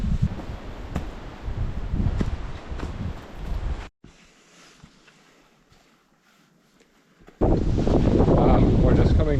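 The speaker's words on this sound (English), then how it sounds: "It's quite windy up here." Strong wind buffets the microphone on a wintry New Zealand backcountry mountain range, roaring loud, then dropping to a quiet lull before gusting back hard.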